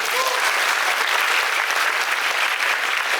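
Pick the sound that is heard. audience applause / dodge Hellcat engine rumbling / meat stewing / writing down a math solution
audience applause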